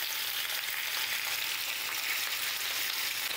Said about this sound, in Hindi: हम डाल देंगे परवल और आलू। गैस का फ्लेम मीडियम करके हम 4-5 मिनट अच्छे से फ्राई करेंगे